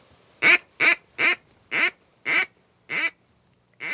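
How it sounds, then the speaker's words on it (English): A duck quacks on the water beside hunting decoys, seven loud, clear quacks in a steady rhythm, close by and with no talking. "the duck landed on the outside of the decoys"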